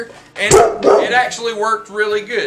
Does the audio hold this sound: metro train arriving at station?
no